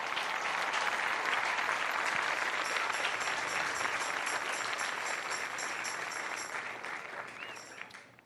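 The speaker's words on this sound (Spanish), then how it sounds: "Dale un aplauso fuerte al Señor." A church congregation breaks into loud, sustained applause, many hands clapping densely and evenly before the sound tapers off toward the end.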